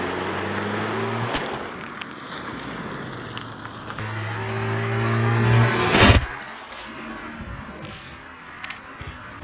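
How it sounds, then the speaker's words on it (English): A car rolls over a smartphone in a crush test: a steady engine hum and a revving swell build toward a sharp, loud crack of breaking glass and metal. The engine then fades to a quieter idle. "let's just see if this thing holds up to a car."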